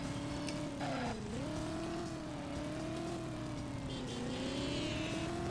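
A car engine in the video game Driver hums steadily, pitch rising and dipping as it accelerates, with occasional tire squeals.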